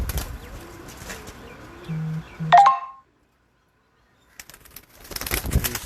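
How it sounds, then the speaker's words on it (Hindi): Pigeons, including Teddy and golden cross breeds, flap their wings and coo on a rooftop loft. Short electronic beeps cut in, a few seconds of near silence follow, and then the birds are heard again. "बहुत आउट क्लास रिज़ल्ट और बहुत आउट क्लास कबूतर हैं"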